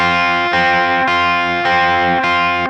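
Electric guitar with heavy distortion and no chorus plays a riff as five loud sustained power chords struck on the beat, evenly spaced and close with no talk.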